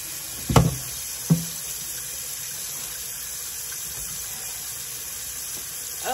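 Hot water running from a tap in a cold building by a chicken coop, a steady hissing rush under a couple of sharp knocks near the start.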